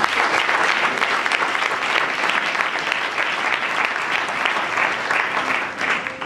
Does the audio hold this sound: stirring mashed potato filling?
no